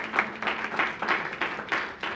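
Audience at a poetry gathering in Willesden Green, London, giving a short burst of applause, moderately loud, with rhythmic clapping.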